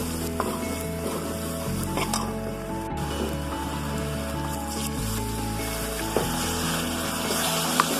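Spice paste with cumin sizzles steadily in a pan, a continuous close frying hiss broken by occasional scraping and stirring clinks.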